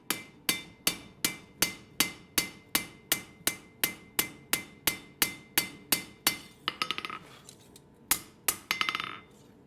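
Hot steel hammered at a forge: a rapid, steady series of about twenty ringing hammer blows, close and crisp, followed by a few looser clinking strikes at the end.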